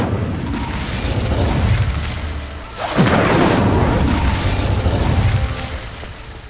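An Incendio fire spell in Hogwarts Legacy lands with a deep boom and a fiery whoosh midway through, surrounded by loud, dense rumbling combat noise that stays heavy to the end.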